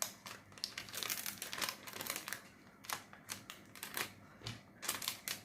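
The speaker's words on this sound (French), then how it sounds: "C'est juste pour mettre le washi tape, hein, en fait." Washi tape being pulled and applied while preparing a diamond painting canvas, giving close crinkling, crackling bursts in an irregular rhythm, alone with no talking.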